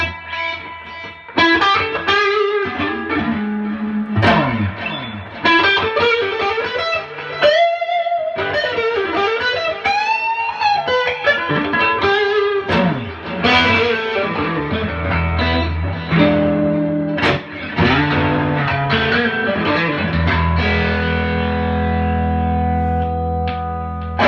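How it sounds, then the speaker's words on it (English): An electric guitar through an OCD distortion pedal and a delay plays loose, meandering phrases with a distorted tone and trailing echoes, ringing out alone and fairly loud. "I'm gonna put on the OCD, just noodle around a little bit with a little distortion and a delay."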